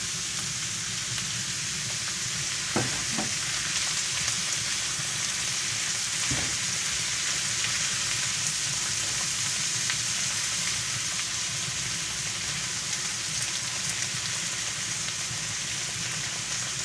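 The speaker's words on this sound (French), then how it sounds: "Et là, on laisse ça maintenant mijoter." Tomato and spinach sauce simmers in a pan with a soft, even bubbling sizzle that holds steady throughout, fairly quiet, with a couple of faint knocks.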